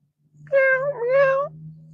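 A person imitates a cat with a drawn-out two-part meow, clear and close, over a steady low hum.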